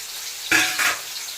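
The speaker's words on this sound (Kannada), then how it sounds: "ಇವಾಗ ಮೆಣಸಿಕಾಯಿ ಹಾಕೋತಾ ಇದ್ದೀವಿ. ಆಮೇಲೆ ಈರುಳ್ಳಿ ಆ್ಯಡ್ ಮಾಡ್ತಿದ್ದೀವಿ ಇದಕ್ಕೆ." Chillies and onions dropped into hot oil in a pan, with a sudden loud sizzle bursting up after a quiet start and a second surge of crackling frying shortly after, no voices.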